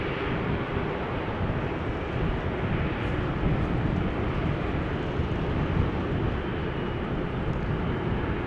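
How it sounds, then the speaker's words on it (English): A steady broadband roar from an Airbus A340-600 of Suriname Airlines moving on the ground at Amsterdam Schiphol Airport. It stays loud and constant, with a slight windy hiss and no voices. "A340-600 on the move, flying on behalf of Suriname Airlines, which will be going to Paramaribo."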